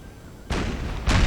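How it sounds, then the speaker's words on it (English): Two 4-pounder cannon shots from a battle in Empire Total War, each a sharp broadband boom arriving about half a second apart, fairly loud and close with no talk over them. "4-pounder cannons"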